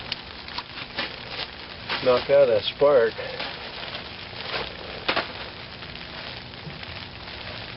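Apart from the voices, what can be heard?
rain falling at a campfire shelter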